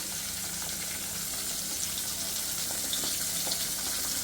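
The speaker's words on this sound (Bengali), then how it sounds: "এখানে আমি হলো একটু মিষ্টি কুমড়া ভেজে নিতেছি" Pumpkin slices fry in a pan with a steady, close hiss and sizzle, broken now and then by faint crackles, and nobody speaks.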